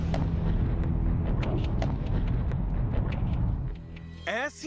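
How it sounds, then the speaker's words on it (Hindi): Bomb explosions in Russia-Ukraine war footage from Bakhmut, a dense run of loud, rumbling booms and sharp bursts. They fade briefly at the end. "ऐसे धमाके,"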